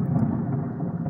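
Low rolling thunder from an electrical thunderstorm over the Sierra de Guadarrama mountains in Spain, a steady deep rumble heard alone without any voices.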